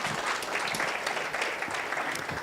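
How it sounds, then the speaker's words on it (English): Round of applause at an International Anti-Corruption Day event with youth, dense steady clapping from a crowd, fairly quiet and even throughout with no one speaking over it. "Another round of applause for Madam Christine."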